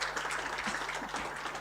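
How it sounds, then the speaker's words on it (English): Steady, dense applause from a seminar audience, even and moderately loud throughout without pause. "Another round of applause."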